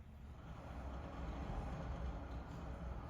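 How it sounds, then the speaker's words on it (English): A steady low rumble with broadband roar holds throughout, like a train rolling past at moderate distance, with no voices. "I think that's the train."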